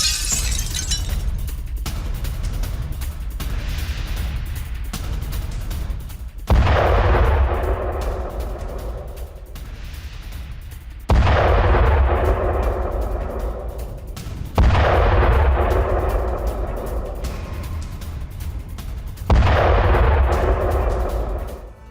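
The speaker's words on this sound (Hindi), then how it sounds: "रूसी आर्टिलरी यूनिट का एक्शन।" Russian artillery fires in a series of five heavy booms spaced several seconds apart, each a sharp loud blast followed by a long rumbling decay that rolls away into the distance, with no voices.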